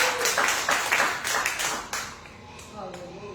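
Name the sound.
congregation clapping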